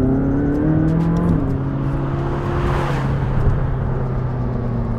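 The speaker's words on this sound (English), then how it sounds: "the turbos spool up, you get to speed so fast, it's deceptively quick, this car" A McLaren 600LT pulls hard under acceleration, its turbocharged engine note rising steadily with a smooth, loud whir as the turbos spool up, heard alone without talk.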